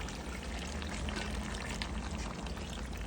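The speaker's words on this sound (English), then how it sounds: "we can add just a little bit of water to this" Water is poured into a pot of Jamaican curry goat, a steady splashing rush that runs unbroken for about three seconds at an even, moderate level with no voices.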